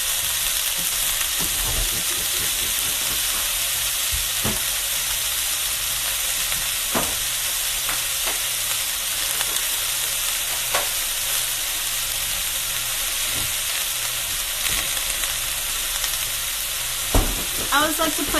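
Egg fried rice frying loudly in a pan, a constant strong sizzle and hiss with occasional spatula knocks and scrapes, close up, no talking.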